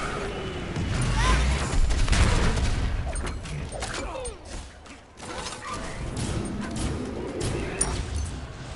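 Rapid gunfire in the Smite video game, dense bursts of shots and impacts under loud, busy in-game action, with a brief lull midway before the firing resumes.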